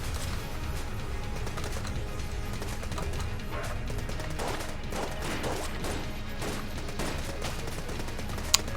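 The pistol machine gun in Enter the Gungeon fires a rapid string of shots, with dense repeated cracks layered over busy game sound for several seconds.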